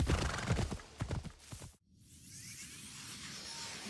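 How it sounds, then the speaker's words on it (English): Hooves clip-clop quickly and close by as a horse is called up in Assassin's Creed Shadows. After a brief hush there is a steady wash of ambient noise, with no talking. "then we're going to call up the horse"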